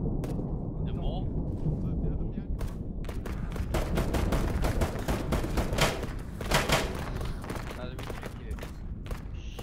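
Gunfire in the military game Arma 3: a run of sharp shots and bursts crackles over a low, steady rumble, with speech mixed in beneath the exchange.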